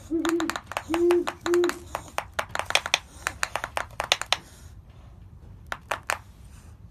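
An owl's defensive display: a few low, short hoots at the start, then a rapid series of sharp clacking snaps, loud and close, broken by brief pauses.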